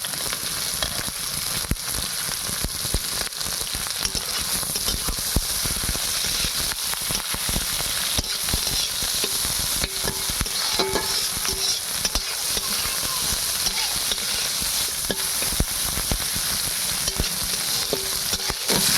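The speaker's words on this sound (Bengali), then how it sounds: "ক্যাপসিকাম আর পেঁয়াজটি হালকা ভাজা করে নেব।" Capsicum and onion sizzle steadily in a hot pan for chowmein, a continuous, fairly loud crackling fry with occasional stirring clatter throughout.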